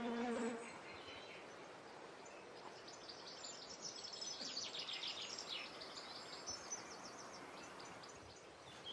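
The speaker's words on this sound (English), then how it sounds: "You plant a geum, and literally within a minute," Bees buzz softly around newly planted geum flowers in a garden border, a faint continuous insect drone with a few light bird chirps in the background.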